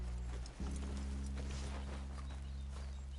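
Horses in the Red Dead Redemption 2 video game step and clop softly under a steady low hum of ambience, faint and even throughout.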